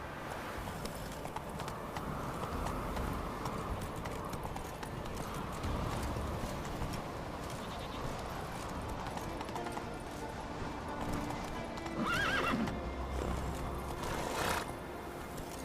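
Hooves of a galloping horse in The Witcher 3 clop steadily across open ground, with a brief whinny near the end, at moderate loudness over a soft ambient bed.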